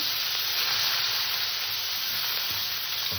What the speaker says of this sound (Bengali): আমি গ্যাসটা ছোট করে দিয়ে মাছগুলো ছেড়ে দিলাম।